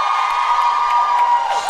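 A live comedy audience claps and cheers in a dense, steady wash of crowd noise that stays loud and even through the whole brief moment.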